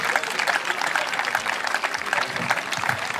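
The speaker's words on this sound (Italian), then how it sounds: "Un applauso per Riccardo." Sustained applause from an arena crowd for a young basketball player being introduced, dense and steady throughout with no pauses.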